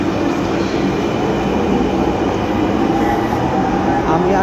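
Metro train at Uttara Center station: a steady, loud rumble of rolling carriages and rail noise filling the platform, constant over a few seconds.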